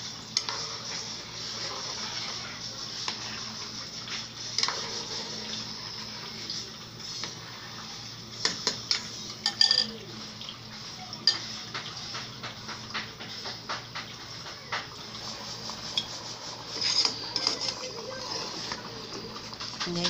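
Boiling rice for rice pudding is stirred in a pot, giving soft, scraping and clinking strokes over a low bubbling simmer, close and fairly quiet, with irregular sharper taps throughout.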